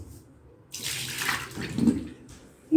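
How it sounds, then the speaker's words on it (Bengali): Water being poured out in a home kitchen, a splashing burst that runs for about a second and a half, fairly close, followed by a brief clatter. "এটা ফেলি জলটা।"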